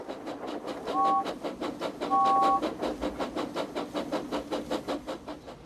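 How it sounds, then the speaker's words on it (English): A cartoon steam engine from Thomas & Friends blows its whistle, two short bright toots a second apart, over a steady rhythmic clatter of wheels on rails. "So steam engines blow their whistles."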